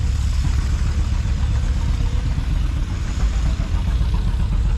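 A restored vintage W9 tractor engine runs outdoors at a fall show, giving a steady low, chugging rumble at moderate volume.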